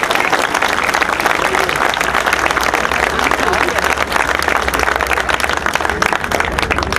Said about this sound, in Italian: noi in questo momento dobbiamo fare un grande applauso a quelli che si sono spaccati la